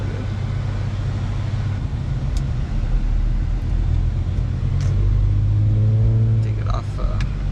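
Infiniti Q50 car accelerating hard on the road, a low engine rumble that swells steadily, with a person talking quietly over the drone inside the cabin.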